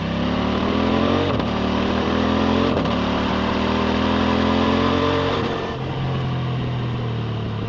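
A 2025 CFMoto 800 MT-X motorcycle rides on German roads, its engine droning steadily and loud throughout, with two brief rises in pitch as it revs and a drop to a lower tone near the end.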